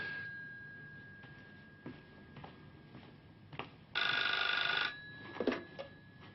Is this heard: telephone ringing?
yes